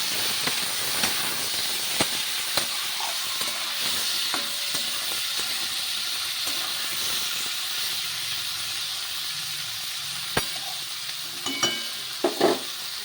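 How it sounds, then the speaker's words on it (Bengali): Flat beans frying in a pan with salt and turmeric, a continuous hissing sizzle broken by sharp scraping and tapping clicks as they are stirred, heard close with no talk. "শিমগুলোকে ভেজে নেব"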